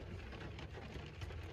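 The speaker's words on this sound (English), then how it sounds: "It's raining." Light rain falls steadily in a faint, even hiss with no voices.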